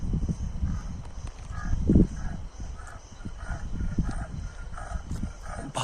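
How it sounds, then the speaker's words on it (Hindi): A tiger calls in a forested Uttarakhand hill area, giving low, rumbling roar-like groans that recur through the stretch, with a stronger swell near the middle, over steady background hiss and insect-like buzz. "बाघ आवाज करने लग चुका है"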